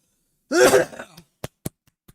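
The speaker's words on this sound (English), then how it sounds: "Excuse my coughing." One raspy cough or throat-clearing burst, close and fairly loud, followed by a few faint clicks in near silence.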